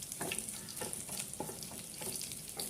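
Crushed garlic and mustard seeds fry in hot oil, giving a steady, close crackling sizzle with light stirring scrapes and no voices.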